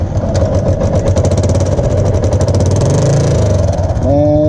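An engine with a rusted, holed muffler idles loudly and close, a steady rumbling throb with a slightly uneven beat, running alone without talk.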